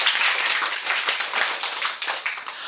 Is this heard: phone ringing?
no